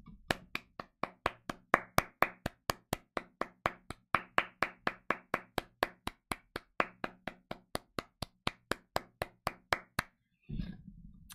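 Steady, evenly spaced hand claps, around thirty in a row, crisp and fairly close, ending with a short burst of noise.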